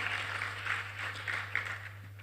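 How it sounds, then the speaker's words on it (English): A round of applause from the audience at the Landfills2Landmarks 2025 event: soft, distant clapping in uneven waves, with a steady electrical hum underneath. "Also a round of applause for Henry Mensah, who is a rep from the Ministry of Finance."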